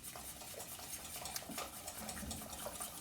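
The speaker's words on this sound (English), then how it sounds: "And I'm going to keep stirring it." Egg custard filling for a gluten-free coconut cream pie being stirred in a pot over medium-low heat, with a steady run of soft scraping and tapping strokes against the pot, close and fairly quiet, with no talking.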